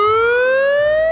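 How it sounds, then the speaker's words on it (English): An ambulance siren blares very loud and close, a single steady rising wail with strong harmonics and no voices over it. "This is an ambulance."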